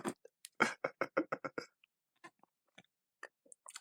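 Someone chews and swallows food close to the mic, a quick run of about eight crunchy bites followed by sparse, quieter chewing and mouth sounds, with no talking.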